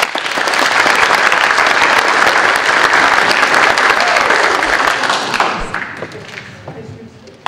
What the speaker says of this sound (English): another round of applause for our math winners